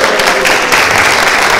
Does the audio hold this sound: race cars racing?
no